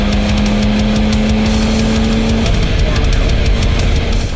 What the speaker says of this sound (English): This 10-speed transmission is awesome. It carries the power through all 10 gears up to 100, 110.